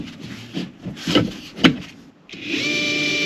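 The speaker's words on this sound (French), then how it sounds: "Bah si, tu vas percer." A power drill works inside a camper van during a build: a few knocks and short bursts, then the drill motor spins up into a steady close whine for the last second.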